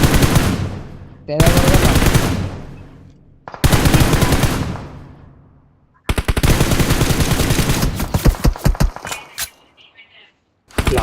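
Bursts of rapid automatic gunfire from a 3v2 online shooter game, four loud sustained volleys separated by short gaps, with a player's voice talking briefly between them.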